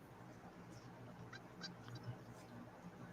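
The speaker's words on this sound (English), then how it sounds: "I hear a bird" A faint bird calls in short honking, goose-like bursts a few times over a low background hum, sounding distant.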